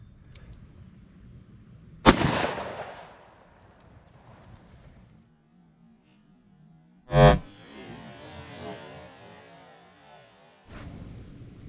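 A .357 Magnum revolver fires into a ballistic chicken target, a single loud sharp report near the 7-second mark, preceded by an earlier loud blast and followed by ringing, with wind noise outdoors.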